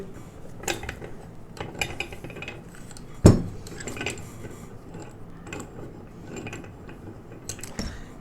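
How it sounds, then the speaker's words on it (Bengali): Metal clicks and clanks as the handle of a steel pipe vise is turned and its movable jaw travels, scattered taps with one sharp louder knock, close and alone. "হ্যান্ডেল দিয়ে যখন ঘোরাচ্ছি মুভেবল জটা উপরের দিকে উঠে আসছে"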